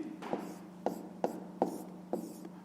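Pen or marker strokes on paper or a board while working through a fifth-grade math exercise, in short scratchy bursts repeating roughly every third of a second to half second, fairly close and quiet over a steady low hum, with no talking.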